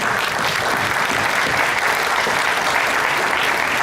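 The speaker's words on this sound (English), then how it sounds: "Give him a round of applause, ladies and gentlemen." Continuous audience applause during a talk, a loud, dense, uniform clapping from a large crowd lasting the whole stretch with no speech over it.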